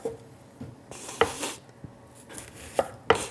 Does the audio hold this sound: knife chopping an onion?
yes